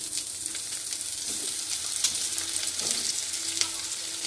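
White eggplant frying over high heat in a pan, a dense, bright sizzle holding steady throughout with faint stirring taps, close and fairly loud, no voices.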